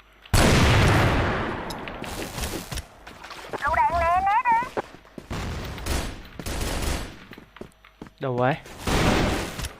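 Video game gunfire in loud bursts and volleys, close and heavy, alternating with a person speaking and brief synthetic tonal effects.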